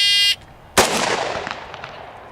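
A single sharp gunshot cracks at a target after a beeping timer tone cuts off, followed by a decaying echo tail, loud and close, during a speed drill.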